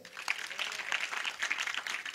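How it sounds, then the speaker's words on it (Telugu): A church congregation claps loudly and steadily, a dense wash of many hands striking together, continuous and close. "ఒకసారి గట్టి చప్పట్లు కొట్టండి."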